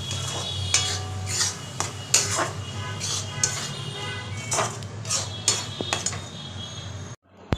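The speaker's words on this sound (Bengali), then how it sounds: "নারকল দিয়ে গুড়টাকে মাখিয়ে গ্যাস দিলে কড়ার মধ্যে সেইটাকে প্রথমে বানিয়ে নিলাম" Coconut and jaggery filling cooking in a kadai over a gas flame, stirred with a utensil that scrapes and clinks against the pan in repeated close strokes over a steady low hum, ending with a brief knock.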